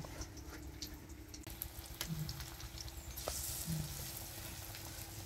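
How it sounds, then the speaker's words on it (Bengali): Potato and egg pakoras fry in hot oil in a village kitchen, giving a steady bubbling sizzle that grows a little louder toward the end. Faint scraping and a low background hum run beneath it, with no speech. "এগুলোকে ভাজবো ভালো করে"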